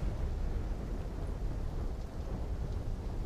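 Thunderstorm in the video game Black Ops 3, with a continuous low rumble of thunder and rain as a dense, steady wash of noise and no voices.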